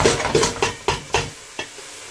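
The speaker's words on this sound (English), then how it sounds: "Give it a good stir." Onions caramelising for Moroccan tfaya are stirred in a hot pan, with steady sizzling and a series of sharp scraping strokes against the pan, close and loud, then fading as the stirring stops.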